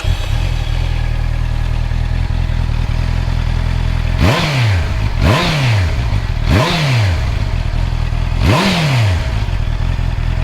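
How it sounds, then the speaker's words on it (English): A 2024 Honda CBR650R E-Clutch inline-four motorcycle idles steadily up close, then gets four sharp revs that rise and fall quickly, evenly spaced with a short gap before the last, all over a constant loud engine drone. "I'll give it a little start up so you can have a little sound test."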